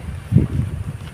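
Strong wind gusting around a small hut under construction, heard as a low rumbling buffet that swells and fades across the moment, with no talking.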